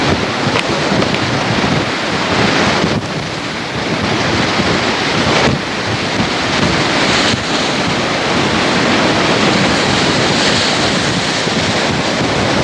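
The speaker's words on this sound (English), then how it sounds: "These are huge waves." Huge ocean waves surge and crash around a vessel at sea, a continuous loud wash of surf mixed with heavy wind buffeting the microphone.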